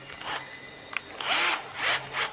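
A power drill drives a screw into a door during installation, with short whirring bursts separated by brief pauses, close and moderately loud, with no talk.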